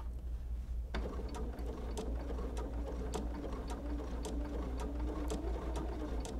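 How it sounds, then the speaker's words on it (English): A sewing machine stitches a quilt binding with a steady, continuous mechanical hum and regular clicking pulses, close and moderately loud, running alone without voices. "So we're gonna stitch all the way to the end here."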